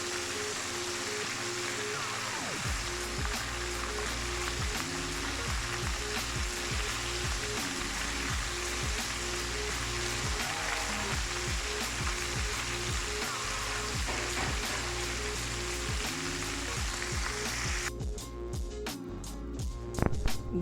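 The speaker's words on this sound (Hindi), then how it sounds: "चिकन को फ्राई होते तकरीबन 5 मिनट हो गए।" Chicken pieces deep-frying KFC style in hot oil, a steady dense sizzle and bubbling that runs loud and close throughout, with a few brief clinks near the end.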